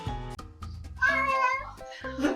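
A pet cat meows in a long, chatty run of varied, close, fairly loud calls that rise and fall like conversation, with a brief human voice mixed in.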